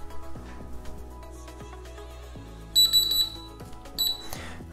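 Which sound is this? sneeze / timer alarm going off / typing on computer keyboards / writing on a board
timer alarm going off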